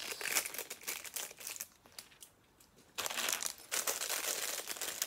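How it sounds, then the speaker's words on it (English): Plastic bags crinkle and rustle in close, loud bursts while a Lego Creator 3-in-1 medieval castle set is being built, with a brief quieter pause in the middle. "the only downside with Lego is all these plastic bags"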